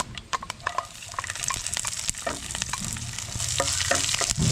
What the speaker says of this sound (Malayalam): കടുകൊക്കെ നന്നായിട്ട് പൊട്ടിക്കഴിഞ്ഞാൽ നമുക്ക് വേണ്ടത് വെളുത്തുള്ളിയാണ്.